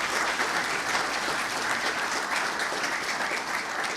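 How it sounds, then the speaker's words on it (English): Steady, warm applause fills a school auditorium at a 2024 career and technical education signing day, the clapping sustained and even throughout with no voices over it. "So please give him a warm round of applause."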